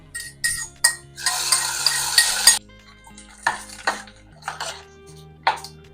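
Hot fried onion tempering is poured from a pan into eggplant chutney, giving a loud burst of sizzling and stirring followed by several short clinks and scrapes of a spoon against the cookware.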